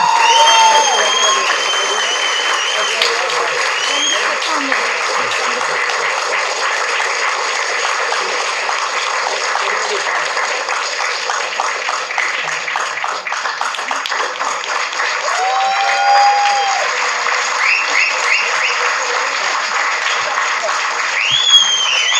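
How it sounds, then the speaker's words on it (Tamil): A large audience at a speech event claps and whistles, sustained applause filling the room with several sharp whistles rising above it, while a voice speaks at moments under the noise. "இந்த கைத்தட்டலும் விசில் சத்தமும் இங்கே இருக்கிற எல்லா கிரியேட்டர்ஸ்க்கும் தொடர்ந்து கிடைச்சிட்டே இருக்கணும்."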